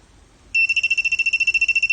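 A GP pin pointer metal detector alerts on a small BB with a loud, shrill electronic beeping that starts suddenly and then pulses rapidly and evenly, close up, after a moment of near silence.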